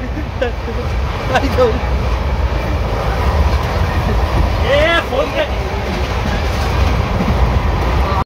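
A passenger train from Mumbai to Ujjain rumbles along the tracks with a steady heavy drone and faint rhythmic clatter, while voices chatter loudly close by.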